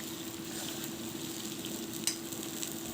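Chicken sizzles and fries in a small amount of oil while being cooked down for chicken kosha, with a steady crackle and a sharp spatter or stir near the middle, alone without talk.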